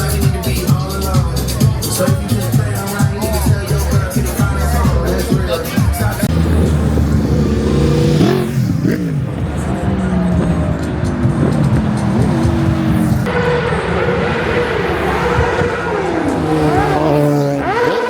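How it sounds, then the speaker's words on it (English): Group of motorcycles arriving for a Fourth of July ride in Chicago, with loud, continuous engine roar and revving from several bikes close by, with people talking underneath. "Look at that, the bikers are coming in."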